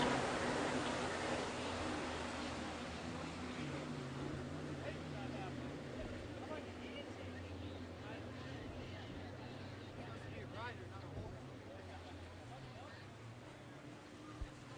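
Stock four-stroke jet skis, a Kawasaki among them, racing on Lake Hartwell at a pro watercraft event: a distant, fairly faint engine drone that fades slowly, with commentators talking over it throughout.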